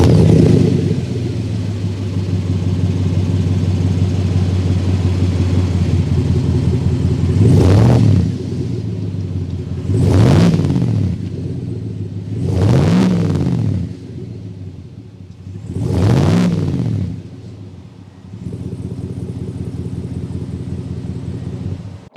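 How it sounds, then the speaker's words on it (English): A 2021 Chevrolet Tahoe RST V8 idles with a steady low exhaust rumble, then four distinct revving blips swell and fall back at roughly even intervals, loud and close with no talk. "Let's go inside this V8 and hear that exhaust note."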